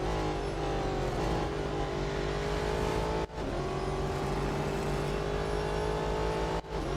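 Race car engines in Real Racing 3 drone loud and close, their pitch climbing steadily as they rev. Two short dips mark gear changes, and several engine tones overlap as cars run nose to tail.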